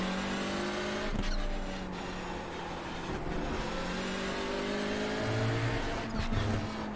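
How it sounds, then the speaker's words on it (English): GT4 race car engines in the iRacing sim at Okayama: a steady droning engine note with a second car revving nearby, gear changes and pitch shifts, a continuous loud motor sound with no voice. "Another GT4 just appears in shot."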